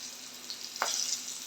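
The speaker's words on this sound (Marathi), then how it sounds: "लसूण आपली छान तळली गेलेली आहे." Garlic with dried red and green chillies fries in oil, giving a soft, steady sizzle with a brief stir or scrape midway, quiet and close, with no talking.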